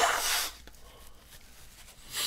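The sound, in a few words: nose blowing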